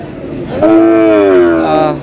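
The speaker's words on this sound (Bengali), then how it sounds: "এখানে যে বকনা গরুগুলি রয়েছে ওরা কিন্তু কৃষকের কাছ থেকে কিনে এখানে কিন্তু একটি গাছের মধ্যে বেঁধে রাখা হয়েছে বকনা গরুর" A heifer tied at a cattle market gives a single loud, close, drawn-out moo lasting over a second, with faint background murmur around it.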